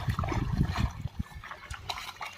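Rainwater drains out of a farm field with a continuous rough gurgling rush at moderate volume.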